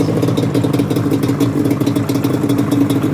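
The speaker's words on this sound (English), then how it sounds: "Now that the engine's on" A Yamaha Banshee engine runs at a steady idle, loud and close, with a constant droning rumble and light mechanical clatter and no pauses throughout.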